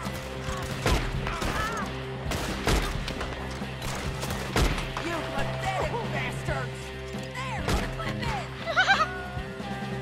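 Gunshots in Red Dead Redemption 2 crack out as several sharp, separate reports among bleating sheep and background game noise, with someone talking over much of it.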